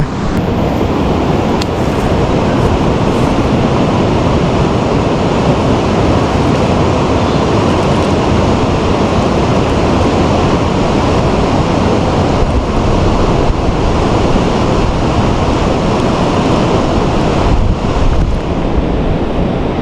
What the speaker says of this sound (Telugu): నది దగ్గరకు వచ్చేసినాం